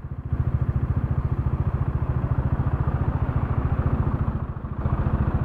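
A big 1000 cc motorcycle engine runs with a deep, rapid, even thumping pulse, loud and close, with a brief dip in the middle before the steady beat picks back up.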